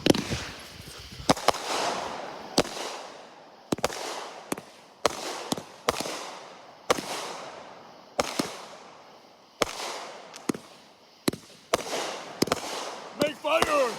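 A 20-shot firework cake fires outdoors, sending a series of sharp, loud bangs at uneven intervals, each with a crackling tail, while people talk and shout nearby.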